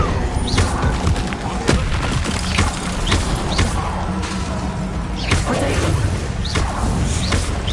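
Confringo blasting spells exploding in the Hogwarts Legacy video game, a series of crashing booms and whooshing impacts spread across the clip amid ongoing combat noise, loud and close.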